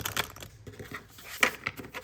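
Quick riffling and flicking of a new deck of stiff cards being shuffled, a brief papery flurry with a sharper snap midway, close by and fairly quiet.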